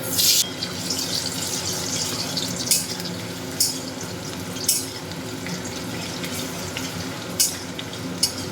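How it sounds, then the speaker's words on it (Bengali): Potatoes frying in hot oil for a traditional Bengali mocha chingri dish, a steady broad hiss of oil with a few sharp crackling pops standing out, close and fairly loud, no talking. "তেল গরম হয়ে গেছে এবার আমি আলুগুলোকে ভেজে নেব"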